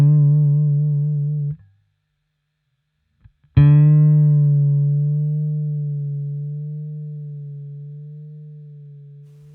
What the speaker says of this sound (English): You can clearly hear very slowly how the pitch moves.